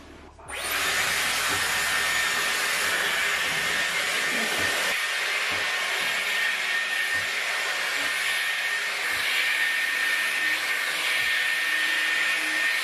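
A hair dryer fitted with a brush attachment switches on and blows at its highest heat setting, a loud, steady high-pitched whirring roar that holds constant and close for the rest of the clip with no talking.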